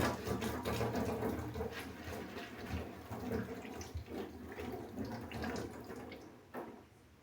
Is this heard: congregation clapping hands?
no